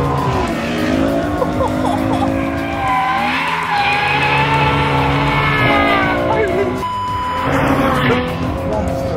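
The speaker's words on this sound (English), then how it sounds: "Monster oversteer every time you get on the throttle." A Ferrari F12 Berlinetta oversteers on a race track, its loud engine roaring continuously while the tires squeal and skid through the corner, with long wavering shrieks rising and falling over the engine's drone.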